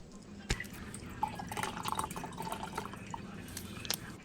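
Worcestershire sauce poured into a cup of water, a brief trickle with scattered small drips and splashes, faint and close with no talk.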